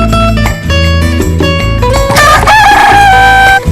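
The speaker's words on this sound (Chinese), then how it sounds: "早到公鸡的啼叫不绝于耳。" Rooster crowing in the early morning on an organic farm in Ruanqiao community, Zhudong, Taiwan, heard over a loud, busy layer of music with sustained tonal lines, the crow rising near the middle of the short stretch.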